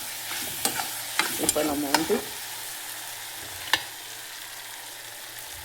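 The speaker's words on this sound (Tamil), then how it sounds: "தக்காளி கொஞ்சம் நேரம் நல்லா வதங்கட்டும்" Tomatoes sautéing in a pan for Tamil-style vathal kuzhambu, with a faint steady sizzle under a few stirring clinks and scrapes near the start and a single sharp knock later, while a voice speaks briefly.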